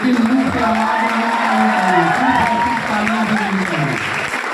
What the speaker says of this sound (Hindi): तालियों की आवाज पूरे सभागार में गड़गड़ाहट की तरह गूंजनी चाहिए,